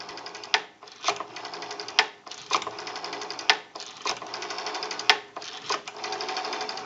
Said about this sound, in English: We have a nice smooth return on our rotary dial now.